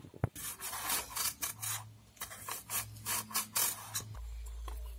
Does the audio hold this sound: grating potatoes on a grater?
yes